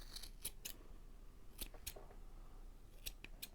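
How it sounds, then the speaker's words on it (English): Scissors snipping through the yarn loops of a pom-pom, a series of sharp, crisp cuts in small clusters, close and quiet with no talking. "You're going to cut through all of the loops."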